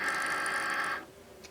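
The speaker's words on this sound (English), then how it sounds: "we'll put our material into the machine" A Cricut Maker cutting machine draws faux leather in with a steady mechanical whir and hum of rollers and motor, loud and close, running about a second before stopping abruptly, followed by a faint tick.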